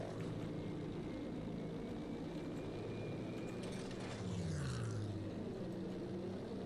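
A propeller warplane in the Pacific theater of Battlefield V drones continuously, with an engine pitch sweep midway through over dense background game noise.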